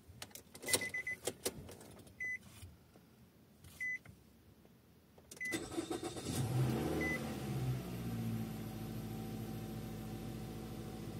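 A car engine started to warm up in Edmonton, Alberta: a few beeps and clicks first, then the engine catches and idles loudly and steadily, alone without talk.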